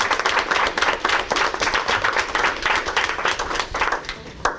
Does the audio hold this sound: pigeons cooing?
no